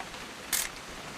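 A single crisp camera-shutter click from the video game What Remains of Edith Finch, short and fairly close, standing alone against a quiet, hissy background.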